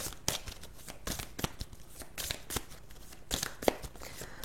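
Oracle cards being shuffled by hand for a rainbow-oracle card reading, a quick run of soft, papery riffles and slaps with brief pauses, close and fairly quiet.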